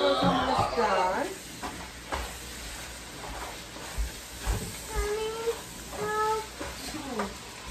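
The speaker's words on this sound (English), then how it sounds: "Fries the hamburgers on the stove." Hamburger meat fries in a pan on a home stove, a steady close sizzle and hiss with occasional stirring scrapes, while a voice talks over it.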